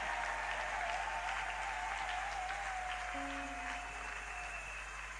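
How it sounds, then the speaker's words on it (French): A church congregation applauds and cheers during a thanksgiving service, the crowd noise a continuous broad wash. Faint sustained tones ride underneath, and the level eases slightly toward the end. "Quand il avance, on acclame très fort pour le Seigneur."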